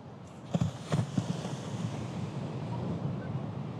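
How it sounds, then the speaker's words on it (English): Big ocean waves breaking and washing ashore at Laguna Beach, a steady broad roar with a few louder surges early on, buffeted by wind noise on the microphone. "Pretty big waves out there."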